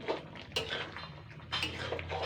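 Pumpkin greens cooked with potato and lentils, seasoned with panch phoron, being lightly stirred in a pan: steady clinks and scrapes of utensil on metal, with a few louder knocks, close and without talk.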